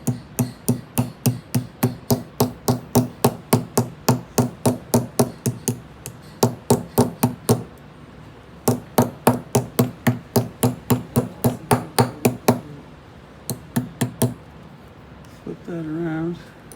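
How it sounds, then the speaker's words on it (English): Steady, rapid hammer blows ring out while swaging a silver tube, close and loud, in long even runs separated by brief pauses, with a voice at the end. "I'm going to continue with this hammer here"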